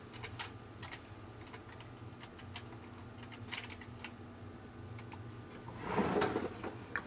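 Keys clatter on a computer keyboard in quick irregular bursts, close and fairly soft, with a louder flurry of taps near the end and no voices.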